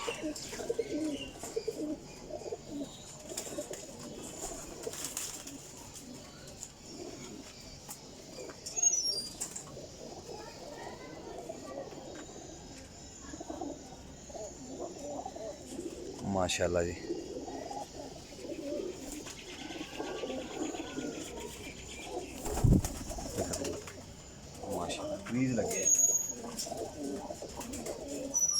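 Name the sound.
Teddy golden flying pigeons cooing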